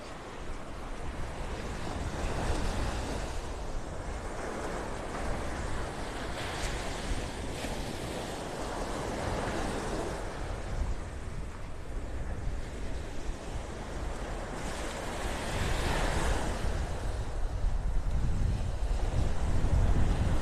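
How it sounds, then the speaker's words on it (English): Wind gusts rush over rolling ocean surf on a beach in North Naples, Florida, a broad continuous roar that swells louder toward the end; no voices. "that wind is picking up"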